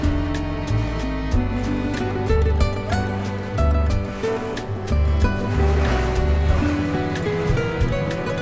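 Boats motor across Lake Batur in Bali, heading toward Gunung Abang, with a steady low engine drone and water wash close by, alone and without talk.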